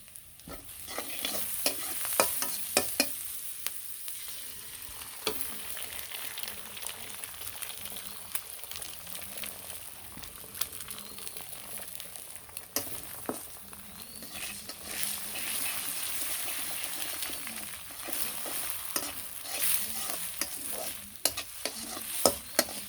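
An egg is stirred in a pan over a steady sizzle, with scraping strokes of a utensil recurring throughout in a close, continuous cooking bed, while a voice is faintly present.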